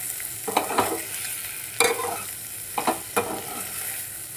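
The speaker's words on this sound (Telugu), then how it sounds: "ఇప్పుడు రెండు కలిసేగా మొత్తం అంతా ఒకసారి మళ్ళీ కలుపుకోవాలి" A spoon stirs a spiced mixture of chili powder and salt in a frying pan, making several distinct scraping strokes at uneven intervals over a low, steady sizzle, close and clear with no talking.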